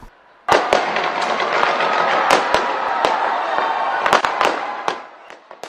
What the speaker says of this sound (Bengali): 2025 সালকে বরণ করা হয় অকল্যান্ডের স্কাই টাওয়ারের আতশবাজি উৎসব দিয়ে